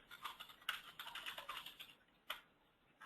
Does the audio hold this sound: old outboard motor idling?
no